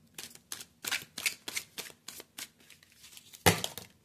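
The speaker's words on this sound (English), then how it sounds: "Normally I don't struggle this bad to shuffle these cards." A deck of tarot cards is shuffled with some difficulty, giving a close series of quick papery riffles and flutters in uneven bursts, ending in one louder slap of cards. No one speaks.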